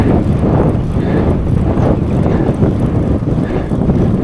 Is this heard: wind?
yes